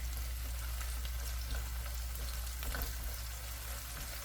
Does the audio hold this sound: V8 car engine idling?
no